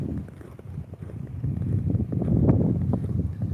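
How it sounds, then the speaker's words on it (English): Gusty wind rumbles against the microphone on a snowy residential street in the UK, with steady low buffeting that swells toward the middle, mixed with irregular crunching steps close by. "Y'all can hear the wind."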